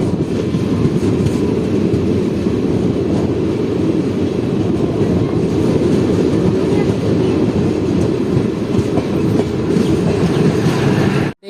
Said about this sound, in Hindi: सरायगढ़ जंक्शन पहुंच रही दोस्तों अपनी ट्रेन